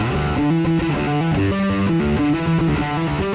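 Fuzzy, heavily distorted bass guitar through the Neural DSP Nano Cortex Bass Fuzz preset playing a chunky riff of repeated low notes, loud and continuous with no voices.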